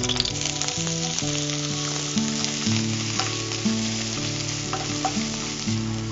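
Onions sizzle in a hot frying pan, a steady, close crackle that runs unbroken for the whole stretch over tonal background music, with no talking.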